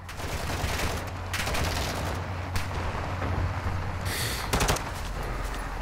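Rapid automatic gunfire from a vehicle in Call of Duty: Warzone 2, dense bursts of shots rattling on steadily over a low engine rumble, loud and close, with sharper volleys breaking through near the end.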